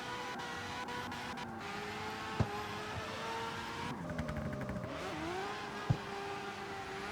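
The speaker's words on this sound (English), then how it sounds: "Super high revving. I obviously changed it so you can rev it incredibly high." Han's Tokyo Drift RX-7 in CarX Street, tuned with a raised rev limiter, revs and accelerates with a fairly faint, steady engine whine that rises and falls through shifts, with a couple of sharp clicks.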